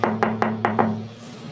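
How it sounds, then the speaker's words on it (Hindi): Five sharp knocks on a wooden door in quick, even succession, close and fairly loud, then quiet. "अचानक रात के वक्त दरवाजा बजा।"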